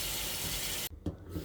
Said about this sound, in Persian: اول از همه گیلاس ها رو باید قشنگ بشوریمش.